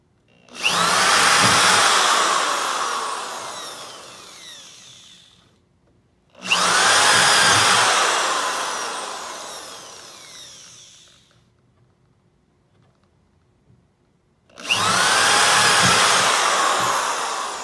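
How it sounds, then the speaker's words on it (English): A power drill whirs loudly in three long bursts, each spinning up sharply and winding down, with short silent gaps between them. "It, of course, helps if you set the drill to go in."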